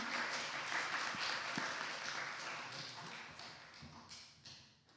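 A church congregation at a Sunday service applauds a returning preacher, a fairly quiet, steady patter of clapping that holds for several seconds and then fades toward the end.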